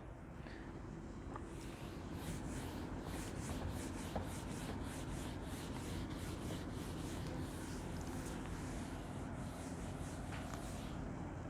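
Cloth or duster rubbing writing off a classroom board in a chemistry lesson on Mendeleev's periodic table, a steady scrubbing with rhythmic strokes throughout, fairly quiet and close with no talk.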